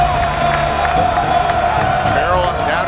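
Home crowd at a Big Ten college basketball game cheering and whooping in a packed arena, a dense continuous roar with scattered shouts, while commentators talk over it.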